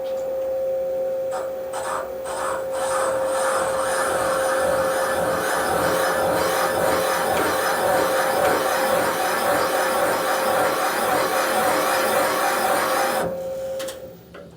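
A valve seat cutter grinds in a 1981 Harley-Davidson XL Sportster 1000cc ironhead cylinder head, a steady metallic rasping drone at close range with a high whine, catching a hard spot, stopping briefly near the end.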